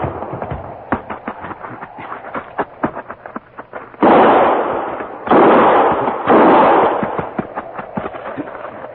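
Gunfire sound effect in a radio drama: a rapid, irregular volley of sharp shots, followed by three longer, louder explosive blasts interspersed with further pops, no voices.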